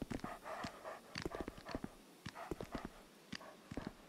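Dogs in Dark Souls II, a run of quick panting and snarling bursts close by, rapid and uneven, with no talk.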